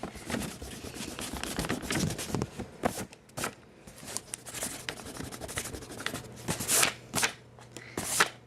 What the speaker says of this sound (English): I just really want to erase